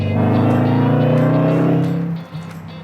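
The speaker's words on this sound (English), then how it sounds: "having the top down really allows you to hear the engine note, which is awesome" 1968 Shelby GT500KR driven with the top down, a loud close V8-style engine note holding steady, then dropping off sharply as the throttle is lifted near the end.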